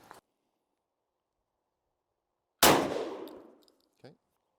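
A Beretta 1301 shotgun fires a single loud, sharp blast followed by a fading ringing echo; small clicks sound faintly before and after in otherwise quiet surroundings.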